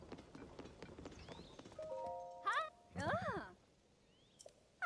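Steady hoof clip-clops from a horse in The Legend of Zelda: Tears of the Kingdom run through the clip, with a whinny-like call rising midway and a short tonal cue near the end.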